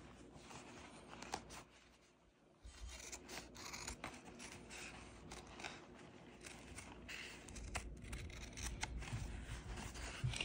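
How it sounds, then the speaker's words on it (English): Heavy-duty scissors snip and chew through thick canvas in repeated rasping cuts, close and fairly quiet, with a low background hum and no talking. "we're using the heavy-duty scissors"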